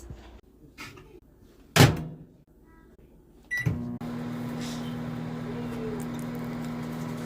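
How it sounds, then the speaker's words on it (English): A microwave oven heating McDonald's chicken nuggets: a door thud and a beep, then the steady loud hum of the running oven, with a voice speaking faintly at the start. "Put it in the microwave for"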